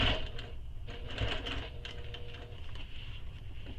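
A domestic sewing machine stitching a handbag side accent panel to the main panel, a soft steady mechanical whir with a faint rhythmic patter, fairly quiet and close.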